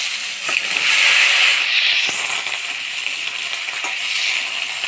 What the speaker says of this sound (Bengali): মাছের ঝোলে ফোড়ন দিব গোটা জিরা, তেজপাতা